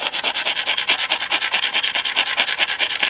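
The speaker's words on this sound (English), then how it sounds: "So you just take the stone and start taking it down." Close and rhythmic, a sharpening stone rasps back and forth over raised metal on a coin ring sizing machine, with quick, even strokes and no talking.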